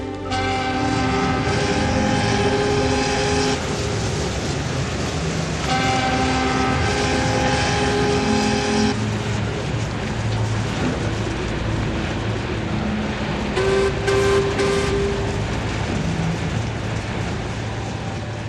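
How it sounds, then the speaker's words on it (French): A deep, steady engine rumble with sustained tonal hums that swell and shift, loud and continuous throughout, like a heavy vessel's motor building. "Le son du moteur augmente, comme si ce remorqueur qu'il pousse avançait, se rapprochait"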